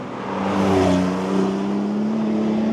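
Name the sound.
Porsche 911 992 GTS engine auto-blip downshift to second gear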